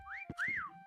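A person whistles during a game of hide and seek, two rising-and-falling whistled notes, close and fairly loud, with a few short thumps and rustles around them.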